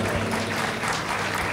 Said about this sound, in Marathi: एकदा गीतकार, संगीतकार आणि गायिका या तिघांसाठी सुद्धा जोरदार टाळ्या झाल्या पाहिजेत